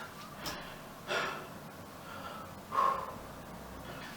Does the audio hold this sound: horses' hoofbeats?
no